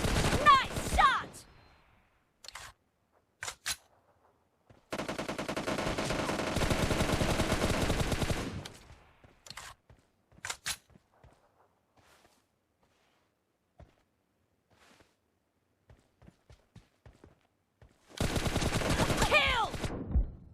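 Automatic gunfire from a PUBG Mobile team deathmatch arrives in loud bursts: a few short shots, a long sustained volley, scattered single cracks, then another extended burst near the end, with no speech.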